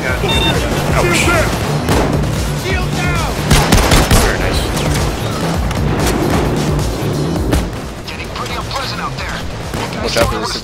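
Loud, dense gunfire in the heist shooter Payday 2: rapid automatic bursts and heavy booms that keep overlapping, with players talking over the shooting.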